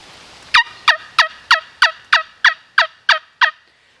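A hand-held turkey call imitating a wild turkey gobble, played for Rio Grande gobblers: ten loud, close, evenly spaced gobbling notes in a quick rhythmic series, then silence, with no talk.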